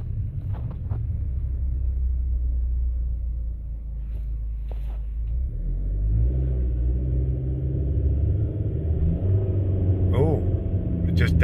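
A car with a newly replaced axle seal pulls away from a dead stop, its engine rumbling low and rising in pitch as it accelerates, heard from inside with a steady road drone.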